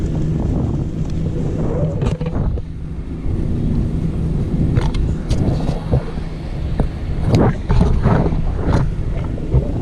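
Strong wind gusts roar and buffet during parasailing over the sea at Boracay, a continuous rumbling rush with sharper bursts, while a voice cries out in alarm at moments.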